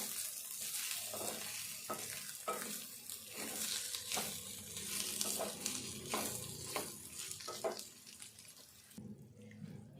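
Moong dal and onion frying in oil with green chillies, a steady sizzle with repeated stirring scrapes and clicks across the whole stretch, close and moderately loud, then dropping away at the end.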